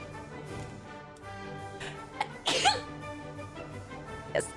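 One close, abrupt human sneeze cuts through midway, loud against quiet background music, with a small breathy sound shortly after.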